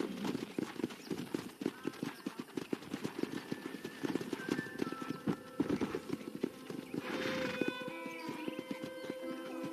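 Many hooves pound rapidly and unevenly as a pack of wild horses gallops by in Red Dead Redemption, with a brief whinny partway through.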